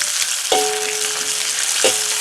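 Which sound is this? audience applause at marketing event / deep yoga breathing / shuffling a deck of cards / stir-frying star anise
stir-frying star anise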